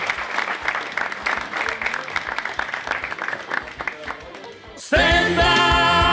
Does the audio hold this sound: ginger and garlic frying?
no